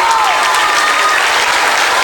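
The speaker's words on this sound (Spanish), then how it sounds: "Fuerte el aplauso, por favor, para él." Loud, dense applause fills the room as a crowd at a book fair honours a guest at a book presentation, a steady unbroken roar of clapping with a voice briefly rising over it.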